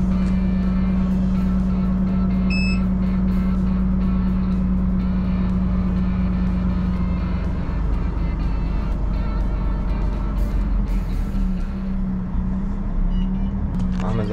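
A Volvo FMX 8x4 truck reverses, its engine a steady, close low rumble, with a brief high electronic beep near the start and a voice talking over it in places.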